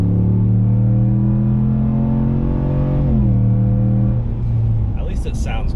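A 2022 RAM Rebel G/T pickup truck engine drones while driving slowly, a low steady hum that shifts pitch midway, with people talking over it and a brief higher noise near the end.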